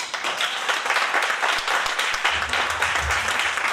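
Conference audience applauds after a speaker at an international human rights and constitutional law congress, a dense, sustained wash of many hands clapping at moderate distance, with a few brief louder thumps.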